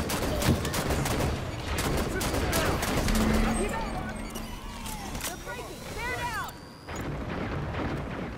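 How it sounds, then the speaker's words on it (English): Dense gunfire crackles through a Halo video game battle, rapid repeated shots layered with explosions and game effects, loud and continuous, while players talk over it. "Let the guns talk, Osiris."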